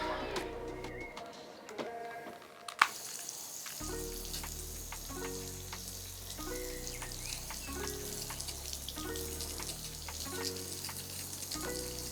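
A water sprayer on a soft setting rinses Glaco glass compound off a car window, making a faint, steady hiss of spray with light, rain-like patter and a soft rhythmic pulsing underneath.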